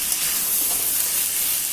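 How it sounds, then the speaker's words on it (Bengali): Boiled chickpeas for ghugni go into a hot pan of cooked-down spices and chili powder, raising a steady, close, fairly loud sizzling hiss that lasts the whole brief moment without any voices. "এখন ঘুগনিটা ছোলাটা দিয়ে দেবো।"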